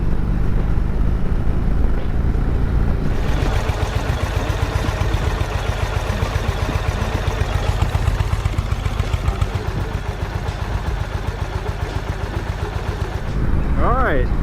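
Indian Chieftain motorcycle ridden on the open road, its engine a steady loud rumble with wind noise throughout, a voice talking over it near the end.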